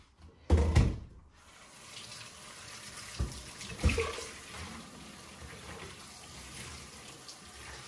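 Cooked beans are drained at a kitchen sink, with a loud gush of water at the start and then steady running water with a few clunks and knocks from the pot and strainer.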